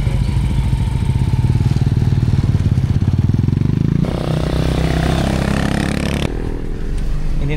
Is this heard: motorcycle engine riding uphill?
yes